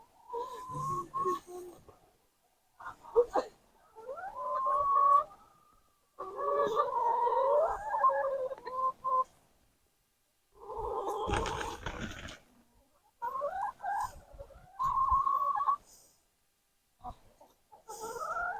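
A big rooster and hens in a chicken yard cluck and call in short, lively bursts separated by brief quiet gaps. The birds are fairly close and no one speaks.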